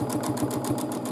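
A domestic sewing machine quilting a large quilt runs at a fast, even rhythm, its rapid needle strokes close and continuous over a motor whir.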